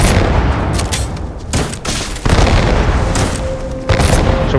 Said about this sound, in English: It's really like it's a grenade launcher.